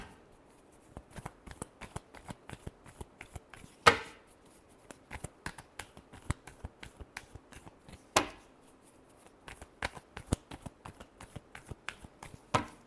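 Tarot cards are shuffled close up in a quiet room, a rapid string of soft riffling flicks and taps with a few sharper slaps where the deck is squared, continuing without speech.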